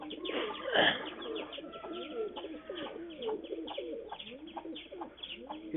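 Pigeons, a male and female pair, coo softly in repeated low, rolling calls close by, with a brief flutter of wings early on and faint chirps in the background.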